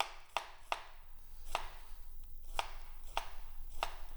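Knife slicing purple cabbage thinly on a cutting board, seven crisp chops at an uneven, unhurried rhythm, close and clear over a quiet background.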